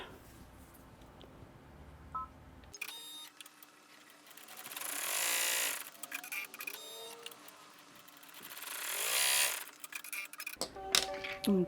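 An embroidery machine sews a tack-down stitch in the hoop, with rapid mechanical needle clatter and whirring in bursts that swell and fade, briefly pausing between runs.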